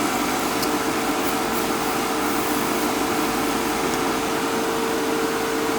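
An MR45 machine just after maintenance, sucking air through its inlet as a steady whooshing hum with a constant tonal whine, close and uninterrupted.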